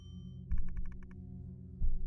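A shop bell in a boba teashop video game rung in a quick run of about seven bright, evenly spaced dings, loud and close over a low steady background hum.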